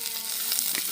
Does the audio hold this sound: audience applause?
no